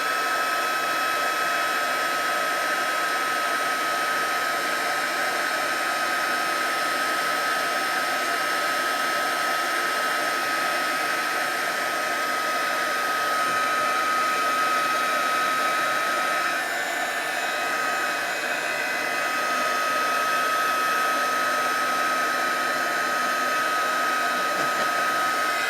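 A heat gun blows steadily to melt embossing powder on Halloween treat packs, a constant loud hair-dryer-like whir and rushing air that holds unchanged throughout with no speech.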